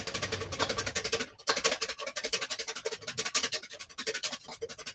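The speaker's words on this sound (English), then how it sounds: "You have to rapidly whisk it so that it doesn't split." Six egg yolks are rapidly whisked for beer batter, a quick, close, scratchy rhythmic rattle in the bowl that pauses briefly and then carries on steadily, with no talk.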